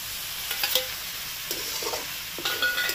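Pre-fried chicken and shrimp tossed into a hot pan with bay leaf for mixed fried rice, giving a continuous sizzle broken by a few sharp stirring clinks and scrapes, no talking.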